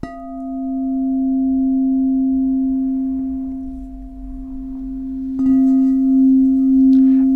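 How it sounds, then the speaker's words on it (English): A crystal singing bowl used for sound baths rings with a pure, sustained tone that swells and lingers, restruck once partway through, loud and close. "This is a crystal singing bowl, and typically I use it for sound baths."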